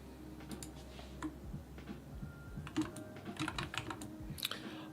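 Typing on a laptop keyboard, a quiet run of irregular soft key clicks and taps, heard close with no talking.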